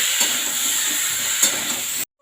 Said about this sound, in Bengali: এরপর আলুগুলো ভেজে নেওয়া হচ্ছে।